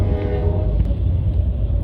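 A train rumbles past a road crossing with a sustained low roar and a held horn tone, loud and close throughout.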